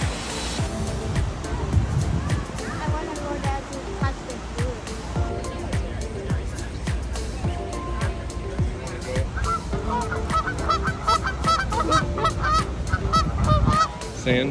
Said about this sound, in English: Those geese?